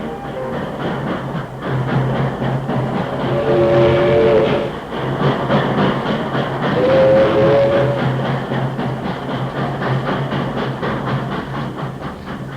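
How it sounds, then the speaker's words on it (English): A long banana train of about 50 cars, pulled by locomotives through miles of banana plantations. It makes a steady, loud mechanical rumble with rhythmic rail clatter and two brief whistle-like tones, and no talk. "the locomotives chug their way through miles of banana plantations on the last lap of the journey"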